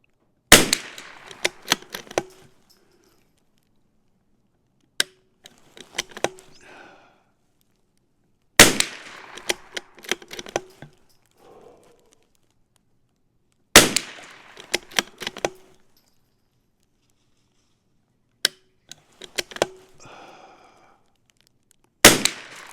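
CZ 457 rimfire bolt-action rifle firing single sharp shots, five in all at roughly five-second intervals, each followed by a brief rattle of cycling the bolt, with no talking.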